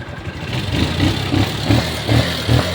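An old, long-idle engine runs with a rhythmic, chugging low putter, loud and near, pulsing about every half second without talk.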